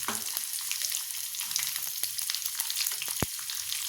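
Onions sizzle steadily in a hot pan of oil while green poha is being prepared, with a constant close crackle, scattered pops and one sharp clatter near the end.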